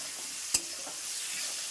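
Chickpea greens with turmeric sizzle steadily in a hot pan close by, with one sharp stirring clack of a spatula early on.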